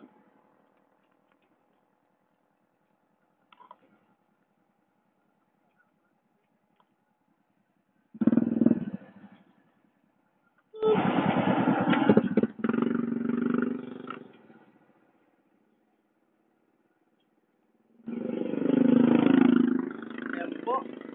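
Bursts of a yellow Honda XRM 125 motorcycle engine, revving and running in three separate stretches between long near-silent gaps, with people talking nearby.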